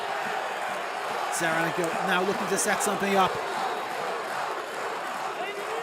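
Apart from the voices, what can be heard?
rugby crowd baying for a try at Stade Mayol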